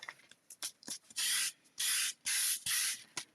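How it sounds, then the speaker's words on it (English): A small handheld sander works on a papercraft fun-fold card, buzzing in several short bursts of hissy, close-up noise separated by brief pauses and light handling sounds. "Little sander."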